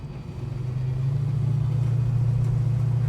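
A Holden HK car engine without extractors idles and builds into a steady, loud, low rumble, running alone and close.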